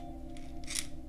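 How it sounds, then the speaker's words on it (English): Sector gear clicking against the cutoff lever inside a gearbox with helical gears, with two quick, sharp clicks, the second louder, close up over a faint steady hum. "that clicking sound you hear is the sector gear hitting the cutoff lever"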